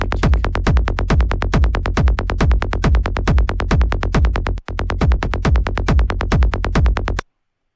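Techno bass line with its low end cut by a Pro-Q3 EQ, layered with a kick drum: a loud, steady stream of punchy pulses repeating about three times a second, with one brief dropout before the pattern resumes and then ends abruptly.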